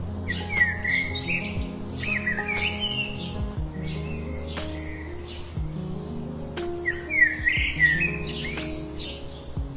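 Bright cartoon sparrow chirps and tweets in quick repeated bursts, close and clear, over a soft sustained musical background with no talking.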